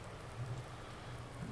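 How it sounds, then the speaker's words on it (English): Rain falls in the farming game Farming Simulator 19, a faint steady hiss of rainfall on surfaces with a low rumble underneath, brief and unbroken. "And it's still raining."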